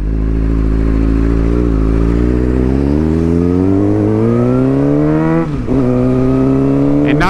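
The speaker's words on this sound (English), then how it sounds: "when I give it gas, it's revving a little different" A Suzuki GSXR 600 sport motorcycle engine, fitted with a changed sprocket, revs loudly and close, its pitch climbing steadily, then dropping briefly and rising again near the end, with no talk.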